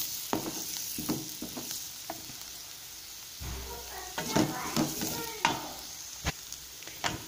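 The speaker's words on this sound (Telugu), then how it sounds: "ఒక 1 minute మనం ఎగ్స్ని ఈ ఆనియన్స్ మసాలాలో ఫ్రై చేస్తే" Eggs frying in an onion masala in a pan, with soft sizzling and intermittent stirring and scraping clicks, close and moderately quiet, and no talking.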